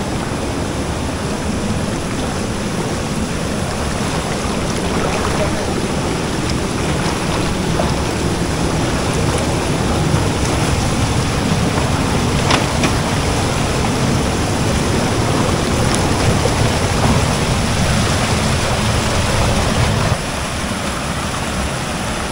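A loud waterfall among large boulders in Trece Martires, Cavite, pours in a steady, powerful roar of rushing water that holds almost unchanged throughout, with no voices.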